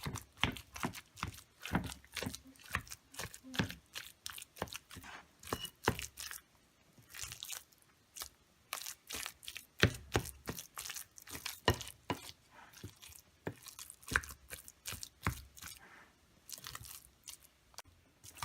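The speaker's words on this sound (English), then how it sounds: "So now I'm just gonna mash the plantains up." Cooked plantains are mashed by hand for pastelon, giving a rapid run of soft, squishy thumps and crunchy pressing sounds, close and fairly quiet, with a short pause partway through.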